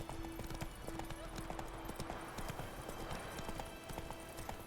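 Roach the horse's hooves clip-clopping steadily in The Witcher 3, a regular near clatter with game ambience and a sustained tone beneath.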